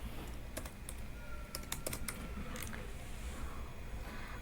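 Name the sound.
typing code on a computer keyboard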